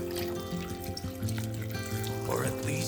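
Tap water running into a pot in a kitchen, a steady close trickle and pour lasting the whole moment, with music and faint talk over it.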